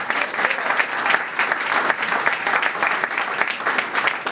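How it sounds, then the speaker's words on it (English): An audience at a tribute to mayors applauds with a full, steady round of clapping that holds at an even, fairly loud level throughout. "Let's give him another round of applause"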